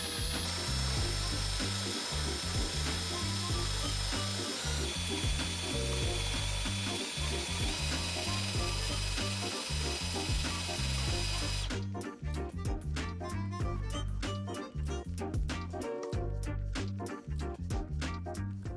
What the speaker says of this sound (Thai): มาที่ดอกเจาะฟอสเนอร์ กันดูบ้าง